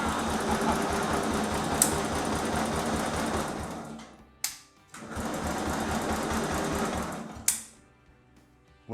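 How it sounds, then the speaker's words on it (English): The starter motor on a 1963 Bolens Husky 600 garden tractor cranks in two long bursts, a fast steady mechanical whir lasting about four and then three seconds, each ending with a click and a short pause. "Well, the starter motor works."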